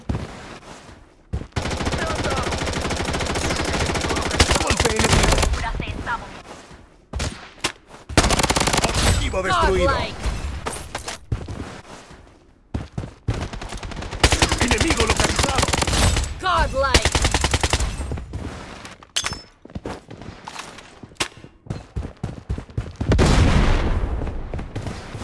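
Heavy rapid gunfire from the video game Blood Strike comes in loud bursts, with sustained automatic volleys separated by short gaps and a little talk underneath.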